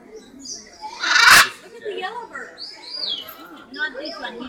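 A pet parrot makes short chirping calls and squawks close by at home, with a sharp loud burst early on, mixed with people talking.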